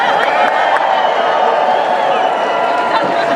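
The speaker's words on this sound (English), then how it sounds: "For the people who are cheering," A live audience cheers and whoops loudly and continuously, a dense crowd roar of many voices that stays at full volume throughout.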